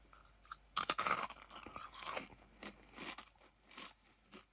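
Takis rolled tortilla chips crunching loudly between the teeth in a burst of sharp, crackly bites, then fading into softer, intermittent chewing crunches with no talk.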